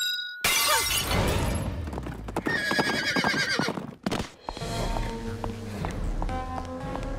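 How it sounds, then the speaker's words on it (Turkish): A 2000-year-old statue shatters in a cartoon: a loud crash and breaking burst, followed by a busy cartoon soundtrack with horse whinnies and clip-clop effects. "Bugün 2000 yıllık bir heykel kırıldı."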